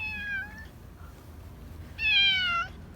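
A stray cat meows twice nearby outdoors, a short cry then a longer, louder one, with a quiet gap between them.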